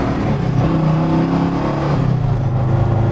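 A 1966 Chevrolet Chevelle SS396 with a big-block V8 accelerates hard on a speed run, its deep exhaust roar steady and loud throughout with a rising engine note, close to the listener and with no talking over it.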